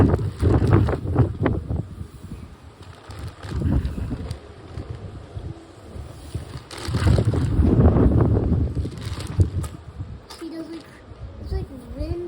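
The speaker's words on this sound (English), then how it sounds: "It's like wind every 4 seconds." Strong gusts of wind batter the microphone in loud, roaring surges that swell and fade every few seconds, with occasional talk in the background.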